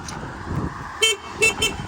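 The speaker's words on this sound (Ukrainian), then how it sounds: "Бібіка також." A 2017 Honda Benly AA05 four-stroke fuel-injected scooter sounds its horn in three short, close beeps, the last two in quick succession, over a low idle-like background.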